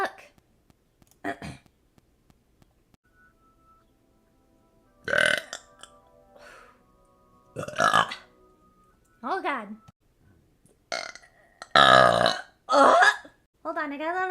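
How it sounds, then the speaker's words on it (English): A VTuber lets out a series of loud, close burps of varying length, some long and croaky, with brief spoken remarks between them. "Hold on, I got a little burp."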